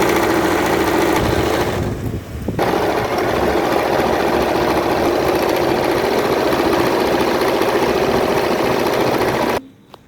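A sewing machine runs a continuous seam on a petticoat, a loud, close, steady motor whir with a brief pause and restart early on, then stopping abruptly near the end.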